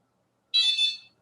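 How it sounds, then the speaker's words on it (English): A door entry alarm gives a single short, shrill electronic beep, loud and clear against silence. "Why y'all keep hearing that beeping sound? Is because somebody coming in and out my goddamn door"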